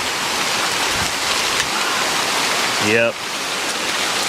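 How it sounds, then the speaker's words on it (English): Heavy rain pours steadily in Pawhuska, Oklahoma, a loud, dense hiss close around, with one short spoken word rising briefly above it near the end. "It's really starting to pour again"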